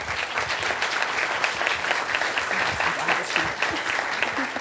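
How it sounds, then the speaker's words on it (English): Audience applause for students at a school board business meeting, sustained dense clapping across the room, fairly close and even throughout. "Can we give them one more round of applause, everyone?"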